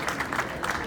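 Audience applause at a launch event for an innovation district, a brief steady patter of many hands clapping together in a crowd.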